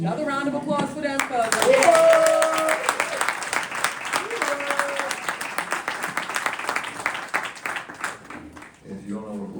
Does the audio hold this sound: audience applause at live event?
yes